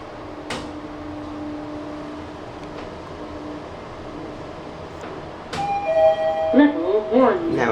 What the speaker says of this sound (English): Nowhere near as boring as most American standard lift chimes.